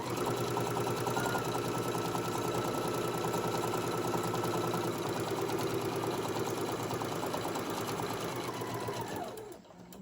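A sewing machine runs continuously and close up for about nine seconds, steadily stitching the sides of a Santa-themed tote bag, then stops abruptly near the end.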